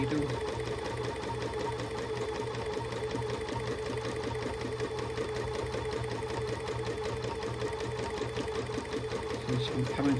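Sewing machine running steadily as it stitches a charity quilt, a constant close mechanical whirr with rapid needle rhythm throughout, with faint talk underneath.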